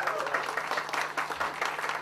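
An audience at an open source awards event applauds a finalist, with dense, continuous clapping from many hands filling the room at close range, with a voice faintly audible underneath.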